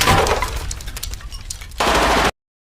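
Loud bursts of automatic gunfire ring out in a film scene: dense rapid shots, a quieter stretch of scattered cracks, then another heavy burst that cuts off abruptly.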